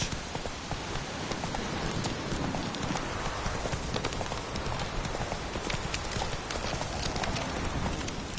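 Hooves from a horse in The Witcher 3 clop continuously under a dense wash of rain-like noise, the beat fairly faint and blurred throughout with no voices heard.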